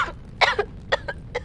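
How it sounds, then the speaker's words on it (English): A man's coughing performed by a fiction reader: a short burst of several harsh coughs and throat-clearing rasps, close and dry, spaced unevenly over about a second and a half. "He suddenly coughed and wheezed some more."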